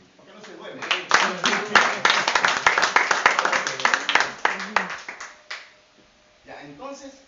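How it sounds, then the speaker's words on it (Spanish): A church congregation claps together in a dense burst of applause that swells and then tapers off over several seconds, ending with voices speaking near the microphone. "Un aplauso."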